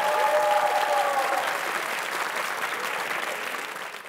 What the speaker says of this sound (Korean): 박수 한번 드리죠.